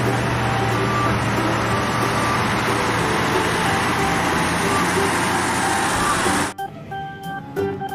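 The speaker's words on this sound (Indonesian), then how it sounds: "Wadidaw, ada truk kontainer," A container truck drives past with a broad, steady roar of engine and road noise that holds loud for several seconds, then cuts off abruptly, leaving faint background sounds.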